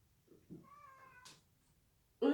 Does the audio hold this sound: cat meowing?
yes